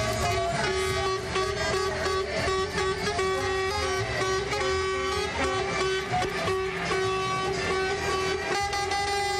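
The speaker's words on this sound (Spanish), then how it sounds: "centenares de camiones de Asociatrin protagonizaron una caravana exigiendo que se modifique la ley de impuestos" A caravan of hundreds of trucks rolls through Cochabamba in a transport workers' tax protest, blaring a dense, continuous wall of overlapping horns with steady engine rumble beneath.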